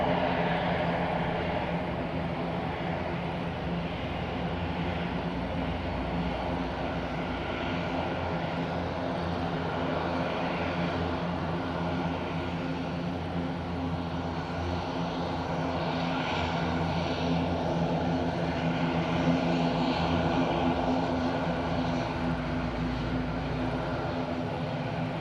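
Aircraft engines drone at Madeira Island Airport on a windy day. The propeller roar is loud and continuous, rises slightly in the middle and holds steady without any talk.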